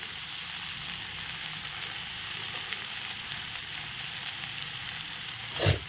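Fried potatoes and shrimp sizzle in a pan, a steady close hiss with soft crackling. A brief louder rustle comes at the very end.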